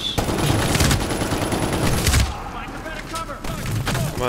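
Heavy machine guns in a Medal of Honor: Warfighter firefight rattle in dense, loud bursts, break off briefly around the midpoint and then pick up again, with a voice talking faintly underneath.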